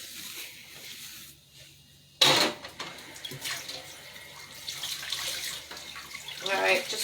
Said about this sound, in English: just wash your hands